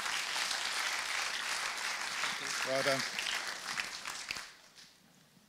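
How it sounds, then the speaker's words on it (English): Audience applause at a startup and scaleup business event in Exeter, a steady wash of clapping that fades out toward the end, with a brief spoken remark partway through. "Another round of applause."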